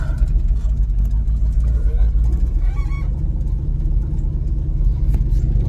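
A 1978 Chevy C30 wrecker's engine hums steadily close by and shifts up into second gear, a continuous low drone with a faint voice partly mixed in.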